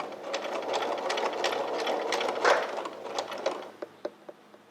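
A sewing machine stitches with a lengthened stitch, its steady rapid clatter running close and loud before breaking into a few separate, slower stitches at the end.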